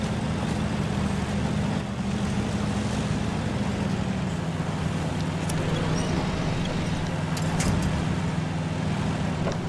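A Land Rover Series 3 crawls over rocks in low gear with the diff locked in SnowRunner, a steady engine drone with a few faint clicks near the end.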